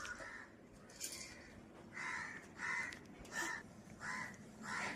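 Crows caw repeatedly on a morning in Alappuzha, Kerala: about seven harsh calls spaced roughly half a second to a second apart, moderately distant and faint over a quiet background.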